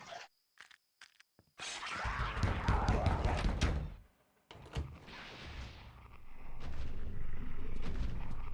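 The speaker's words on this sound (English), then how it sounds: "Oh my god, this flintlock pistol is so shitty." A flintlock pistol fires in the horror game Eternal Darkness: a sharp crack and a heavy booming report, then a pause, more clatter and a rising roar, with a faint insect-like ambience and brief speech.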